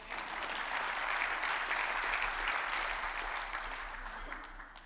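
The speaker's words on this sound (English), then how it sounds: "you can clap for that." Conference audience at a free-market healthcare meeting applauding, a dense steady wash of clapping across the room that holds for several seconds, then begins to taper.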